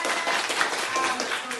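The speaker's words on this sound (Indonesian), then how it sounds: "tepuk tangan." A short burst of dense clapping from a classroom group, bright and continuous, like a roomful of people applauding together.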